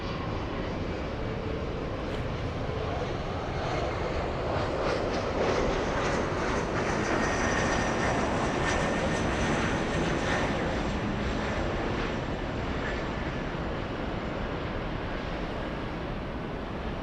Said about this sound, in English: we have Sky West, Little CRJ.